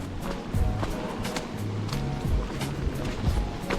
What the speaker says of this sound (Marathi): त्यानं हा बघा धबधबा खाली पडत आहे पूर्ण